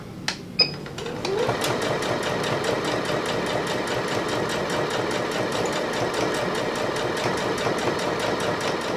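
A sewing machine runs a straight seam through fabric, its needle hammering in a fast, steady mechanical rhythm that continues unbroken after a few clicks at the start.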